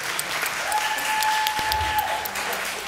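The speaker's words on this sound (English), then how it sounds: "give her a round of applause" An audience at an advisory board meeting gives a round of applause, a steady dense clapping from many hands that fills the room throughout, with a brief tone and a voice faintly underneath.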